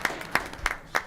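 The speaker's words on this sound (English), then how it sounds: "Round of applause for Tommy." Scattered hand claps ring out at a graduation ceremony for an office of multicultural student affairs, with a few sharp, sparse claps close by over a low room murmur instead of a full ovation.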